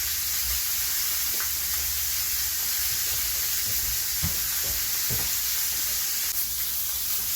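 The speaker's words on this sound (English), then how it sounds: "So let's go ahead and brown the second side" Oxtails browning in a hot pan, a continuous close sizzle and hiss with a few soft knocks and clinks of a utensil moving the meat.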